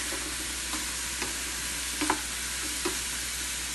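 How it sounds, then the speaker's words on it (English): Chayote (chow chow) sautéing in oil in a pan, a steady soft sizzle with a few faint spoon clicks and stirring knocks, close and alone. "saute this with oil till the color changes and it becomes soft"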